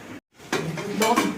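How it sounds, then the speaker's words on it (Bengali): A lid set down on a cooking pan over chicken singara being steamed, giving a short metallic clatter and scrape after a brief silence, with a faint simmering hiss underneath. "এবার একটা ঢাকনা দিয়ে দিচ্ছি"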